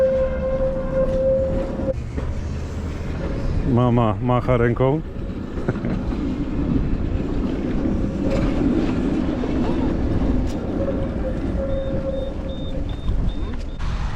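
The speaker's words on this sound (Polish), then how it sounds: "Jedzie kolejny tramwaj." A tram rumbles past nearby in a Russian city with a steady rolling drone and a brief tonal horn or squeal, while a voice speaks briefly over it.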